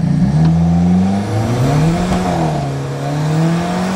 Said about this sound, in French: un échappement d'origine, ça fait un bruit comme ça